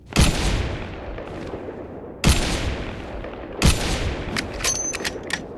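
Three sharp gunshot blasts from a modded Minecraft game, each a loud crack trailing into a decaying boom, spaced about two seconds apart, with a few faint clicks after the last shot and no voices.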